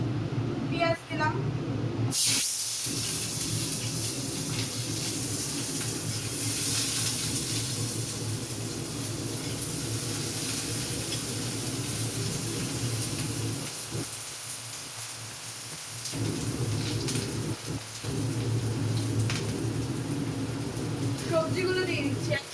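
Onions sizzle in a hot pan after roasted peanuts are lifted out, a steady broadband frying hiss that runs the whole time, dipping briefly a few times.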